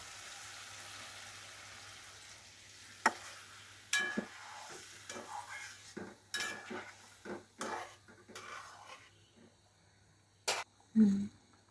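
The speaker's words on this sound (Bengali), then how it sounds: "ঢাকনাটা উঠিয়ে আর একটু নাড়া দেব।" Duck meat being stirred in a pot, a quiet bed of low sizzling punctuated by irregular metallic scrapes and knocks of a spoon against the pot, close by, with no talk.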